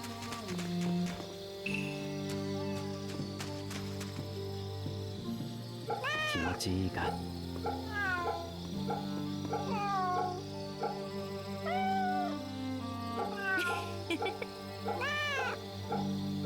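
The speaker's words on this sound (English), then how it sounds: "Oh, kitty." A cat meows repeatedly in the video game Fate/Samurai Remnant, its calls rising and falling over steady background music while a player talks.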